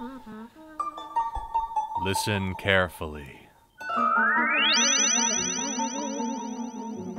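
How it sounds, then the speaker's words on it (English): Radio play sound effect of someone moving into the fourth dimension: a warbling, rising electronic sweep that climbs and then holds as a bright sustained tone, after someone speaks briefly and a few springy boings. "That is the sound of someone moving into the fourth dimension."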